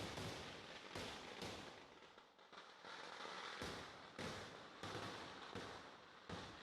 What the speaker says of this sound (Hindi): ये लोग काफी उत्साह से ये पटाखे फोड़ रहे हैं